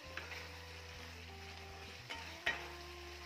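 Fried potatoes being stirred into the gravy of a potato curry in a pan, with a soft steady sizzle and a low hum underneath, plus a couple of faint scraping stirs.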